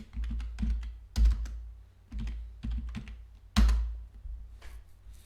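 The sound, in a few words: typing a search into a browser on a computer keyboard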